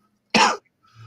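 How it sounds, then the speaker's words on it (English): A single sharp, close cough bursts out briefly, followed by a faint low murmur after a short pause. "There's the cough."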